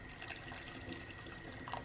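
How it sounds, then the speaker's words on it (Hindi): Boiled water poured into a pot of simmering white lobia (black-eyed beans), giving a quiet, steady splashing stream that runs unbroken for a couple of seconds. "ये पानी उबला हुआ जो मैं डाल रही हूँ।"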